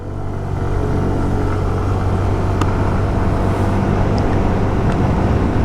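A 110cc scooter engine revs up and holds a steady, loud drone as it accelerates at full throttle, with wind noise and no voices.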